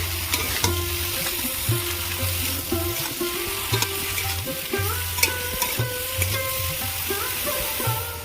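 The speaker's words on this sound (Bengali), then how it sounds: "অনেকবার ঢাকা খুলে ভালো করে নাড়াচাড়া করে নিয়েছি" Eggplant frying in a pan, a steady close sizzle with repeated scrapes and knocks of a spatula being stirred through the oil, continuing without pause and with no one talking.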